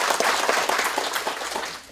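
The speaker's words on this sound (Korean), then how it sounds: "힘찬 박수로." Audience applause at a panel discussion as a speaker is introduced: a dense, steady wash of clapping from many hands throughout, easing slightly at the end.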